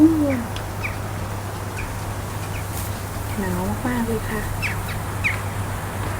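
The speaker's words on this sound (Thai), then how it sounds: "เสียงนกร้อง" Several short bird calls chirp and warble at a distance over a steady low hum during heavy snowfall, recorded from a house window, with someone speaking briefly at the start.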